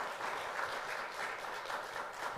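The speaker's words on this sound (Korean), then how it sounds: "우리 박수로 감사를 표현해 주시면 감사하겠습니다." Audience applause at a Korean church family-life lecture, a steady dense wash of clapping from a seated crowd filling the whole moment without voices.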